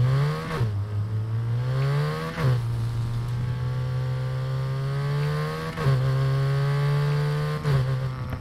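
Engine of a tuned MINI John Cooper Works Countryman with biturbo in Need for Speed Heat, a steady loud drone holding pitch, dipping and climbing again at gear shifts around two and six seconds, with no talk over it.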